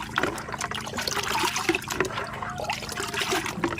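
Water mixed with calcium poured into a container for a grafted Miyazaki mango, a close, bubbly trickling and splashing fill that runs steadily for a few seconds without talk.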